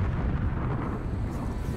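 Explosions in the first-person shooter Call of Duty Black Ops give a dense, loud, continuous low rumble and roar with no clear separate blasts.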